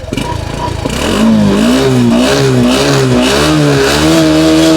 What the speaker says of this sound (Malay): Jom kita dengar bunyi enjin dan coverset.